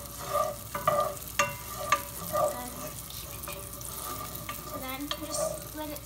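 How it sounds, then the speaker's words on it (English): Oil sizzles steadily in a pan of frying liver for Caribbean curry liver, with a wooden spoon stirring and scraping in repeated close knocks over the continuous hiss. "and the oil is sizzling."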